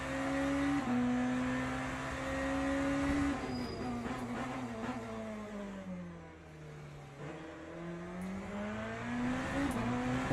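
Race car engines roar in the Le Mans Ultimate sim racing game during a GT3 race with a BMW GT3 close ahead, a loud sustained engine drone rising and falling in pitch through gear changes, with no talking.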